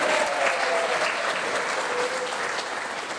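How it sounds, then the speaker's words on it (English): Wedding guests give the bridal party a steady round of applause, a dense, continuous patter of many hands clapping that eases slightly toward the end. "if you'd like to clap for Angus and Thea"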